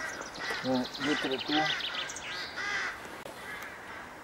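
By a canal, a crow gives three quick, hoarse caws at moderate distance, followed by fainter calls, while someone talks nearby.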